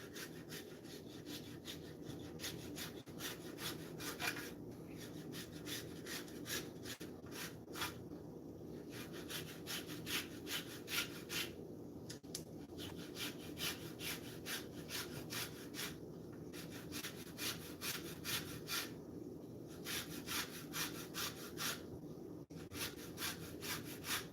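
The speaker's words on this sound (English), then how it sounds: "I'm going to keep the rind of it, and I'm going to actually take some of the zest" Citrus rind zested on a grater while making blueberry or blackberry chia jam, a steady rhythmic rasping and scraping repeated stroke after stroke at close range, with no voices.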